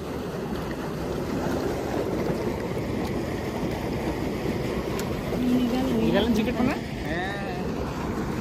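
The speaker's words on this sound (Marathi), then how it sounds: "आता पाणी टाक माझ्या हातावर." Canal water is poured over soil-scrubbed hands for washing outdoors, a continuous splashing trickle heard close by, with people talking over it.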